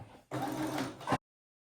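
A sewing machine stitches fabric for a Piper blouse in one short, close mechanical burst of under a second, then stops dead into silence.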